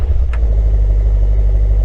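A Brabus-tuned car fitted with a new exhaust runs at a steady, deep idle, close and loud, with a constant low rumble and no talking.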